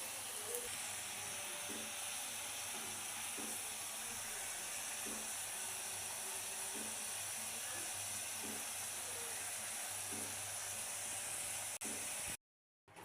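French fries sizzle in hot oil with a steady, low hiss and faint crackle, a soft rhythmic ticking running beneath, before a brief cut to silence near the end.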